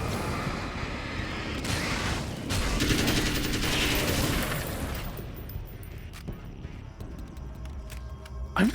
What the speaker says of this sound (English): Oh god, that sounds like a weapon from a stock library.